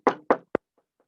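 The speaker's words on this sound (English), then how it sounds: "And she knocked on the door." Knocking on the door of a huge mansion: two hollow knocks, then a sharper third, close and distinct with no voice, followed by a couple of very faint taps.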